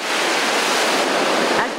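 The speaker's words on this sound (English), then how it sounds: "After 90 hours of use, each filter is cleaned through the backwashing process" Rushing water from a municipal water treatment filter being backwashed, a loud, steady broadband roar like surf or a waterfall lasting throughout.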